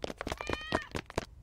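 A cartoon kitten from The Simpsons gives a single short, high meow amid a quick burst of soft clatter and thumps, brief and fairly quiet.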